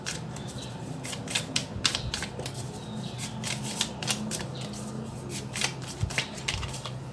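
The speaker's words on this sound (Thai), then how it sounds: "ไพ่พลังงานหลักความรักของโอทัดไปขอไพ่หน่อยนะคะ" A tarot deck is shuffled and cards are drawn, a rapid run of crisp riffling flicks and slaps close up, repeating in quick bursts across the whole stretch with no speech.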